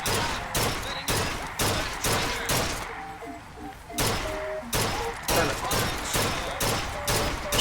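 Gunfire from the video game Bioshock Infinite, loud sharp shots firing in a steady rhythm of about twelve, with a brief pause near the middle where game tones sound.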